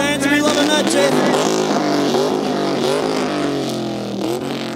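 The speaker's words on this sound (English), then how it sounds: "we might see some rubber burn here as well from Emerald" A Holden VS Commodore doing circle work at the Australian National Circle Work Championships, its engine roaring loud and close in rising and falling revs with wavering pitch, continuous throughout.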